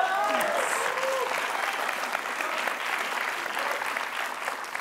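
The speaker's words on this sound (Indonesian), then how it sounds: "Boleh tepuk tangan buat Oki dulu." Studio audience applause on the Family 100 game show, a dense steady roar of many hands clapping throughout at full level, with brief cheers and a voice or two mixed in near the start.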